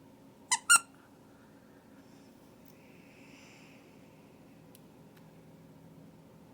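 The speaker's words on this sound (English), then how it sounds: "I didn't know it squeaked. I've had this for years and didn't know it squeaked." A plush frogtopus toy gives two quick, sharp squeaks close by near the start, then only faint room noise remains.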